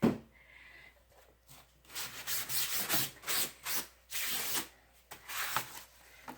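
Close-up wiping of sawdust off the back of a ceramic tile: a series of short, dry rubbing strokes in uneven bursts, with quiet pauses between them.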